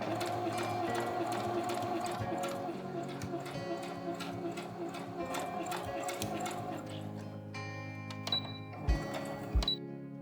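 A domestic sewing machine stitches fabric straps for baby bloomers, running in a steady rapid mechanical rhythm with brief pauses and clicks near the end, close and clear with no voices.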